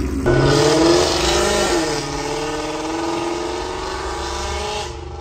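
A loud Ford Mustang with Corsa Xtreme exhaust and catless long tube headers roars, rising then settling into a steady droning rumble as it drives, close and continuous.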